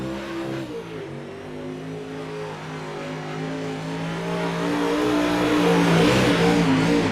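Open-wheel modified race car in a sim racing game at Lernerville dirt track, engine droning steadily and loudly alone, pitch shifting and swelling toward the end as it revs through a lap.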